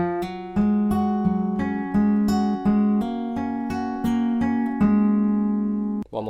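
Fingerpicked acoustic guitar plays the second bar of a song, a steady run of plucked notes ringing over a sustained bass note, close and clear with no talk.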